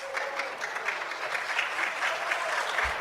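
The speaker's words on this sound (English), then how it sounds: "It's the only place where people see a video game and applaud." Convention crowd at a gaming expo applauding a retro video game demo, a steady moderate patter of clapping from many hands at some distance, continuing throughout.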